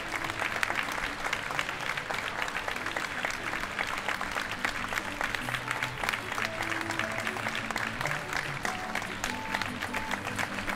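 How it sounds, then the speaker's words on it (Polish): Sustained, dense applause from an audience after pupils perform a waltz at a Polish high school prom ball, filling the whole stretch with steady clapping and faint crowd murmur. "Jeszcze raz poproszę o gromkie brawa."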